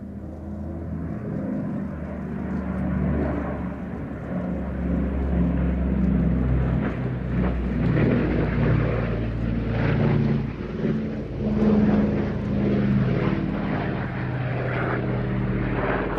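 A propeller aircraft flies overhead at the Midlands Air Festival air show, a steady drone that swells and fades gently as it passes, heard at a distance with no voices.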